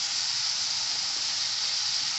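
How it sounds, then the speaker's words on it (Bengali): Fried potatoes go into a pan of cooking spice masala and set off a strong, even sizzle and hiss that stays loud and steady throughout, with no talking. "তো এই ভাজা আলুগুলো আমি এবার এর মধ্যে অ্যাড"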